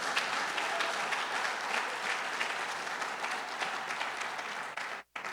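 A church congregation applauds during a sermon, giving a sustained, even wash of many hands clapping that fills the room for about five seconds before cutting out briefly near the end.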